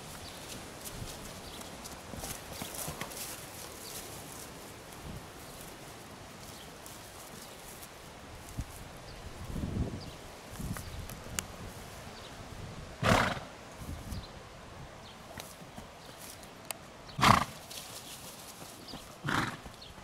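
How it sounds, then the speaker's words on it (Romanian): A herd of about 25 young horses at Olosig stands at a distance, with hooves shuffling and clopping quietly throughout. Several loud neighs and whinnies break out at intervals. "cum v-am zis că sunt aici cu 25 de cai mânși"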